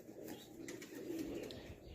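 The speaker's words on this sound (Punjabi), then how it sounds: "ਇਹ ਸਾਡੀ ਪਿਛਲੇ ਸਾਲ ਦੀ ਚੈਂਪੀਅਨ ਕਬੂਤਰੀ ਹੈ।" A champion racing pigeon coos softly in a loft, low rolling murmurs that repeat gently and stay faint and close, with no talk over them.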